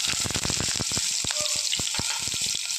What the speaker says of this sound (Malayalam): വെളിച്ചെണ്ണ ചൂടാകുമ്പോഴേക്ക് നമ്മൾ എടുത്തു വെച്ചിരിക്കുന്ന ഇഞ്ചി വെളുത്തുള്ളി പൊടിയായി അരിഞ്ഞ് ചേർത്ത് കൊടുക്കാം